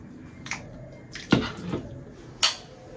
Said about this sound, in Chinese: 葱段给它下进去，再给它搅拌一下